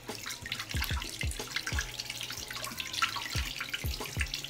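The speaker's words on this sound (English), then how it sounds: "I'm about to wash my hands really quickly" Hands washing under a running tap at a sink, with steady close water flow broken by irregular splashes and drips, and no talking.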